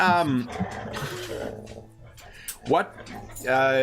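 A pet dog, a pup named Midnight, makes short whining, yelping calls near the start, in the middle and at the end, mixed in among people talking close by.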